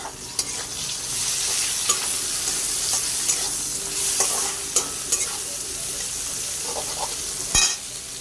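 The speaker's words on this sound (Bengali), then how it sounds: "পেঁয়াজ, কাঁচা লঙ্কা দিয়ে আর একটু ফ্রাই করে নেবো" Onion, green chilli and chopped tomato sizzle steadily in a pan for a pasta dish, with a constant bright frying hiss broken by occasional clicks and scrapes of stirring, no voices.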